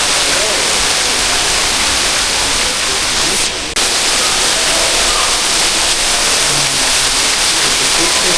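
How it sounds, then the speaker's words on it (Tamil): Steady rushing water pours continuously down at the Montreal Biodome, a dense broadband roar with a brief dip partway through. "கேட்கறதுக்கு ஒரு இதமாக இருக்குது இந்த தண்ணி அப்படி வடிஞ்ச சத்தம்."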